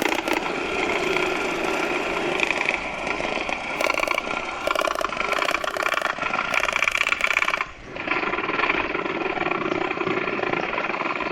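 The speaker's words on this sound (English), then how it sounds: "This is how two helicopters would drop soldiers into an active battlefield." Two military helicopters fly in to drop soldiers during a battlefield practice drill, a loud continuous rotor thrum with mechanical clatter holding steady throughout, with sharp bursts that could be simulated gunfire.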